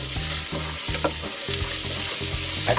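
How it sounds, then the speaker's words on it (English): Onion frying in a pan for tomato soup, a loud steady sizzle with rhythmic scraping stirs and a low humming undertone, no one talking. "Fry the onion a little bit."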